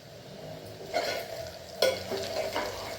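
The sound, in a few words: onions sautéing and being stirred in a pan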